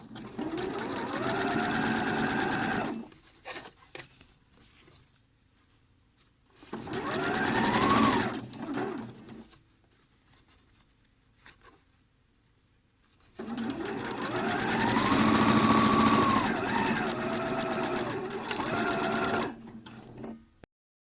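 A sewing machine stitches bias binding along the bottom hem of a pyjama shirt top, running in three loud, steady bursts separated by quieter pauses with light handling noise.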